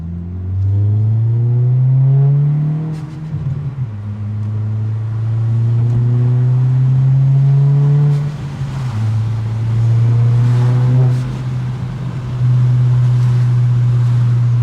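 A 2023 Acura Integra A-Spec with a full 3-inch stainless DC Sports catback exhaust, heard from inside the cabin on a test drive: a loud, droning engine note that rises steadily through the gears, with dips at each upshift.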